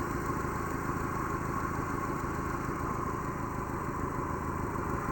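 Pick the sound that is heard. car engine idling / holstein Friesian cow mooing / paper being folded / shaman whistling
car engine idling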